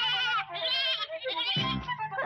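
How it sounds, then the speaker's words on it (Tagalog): A sheep bleats repeatedly in a comic domestic scene, loud, wavering cries one after another with a lower, rougher call near the end. "Buwisit na tupa!"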